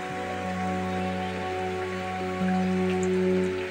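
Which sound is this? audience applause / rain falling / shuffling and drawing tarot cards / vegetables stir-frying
rain falling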